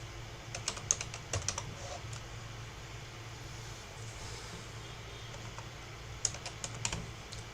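Bursts of computer keyboard typing, quick clusters of keystrokes at the start and again near the end, set against a steady low hum, with no talking.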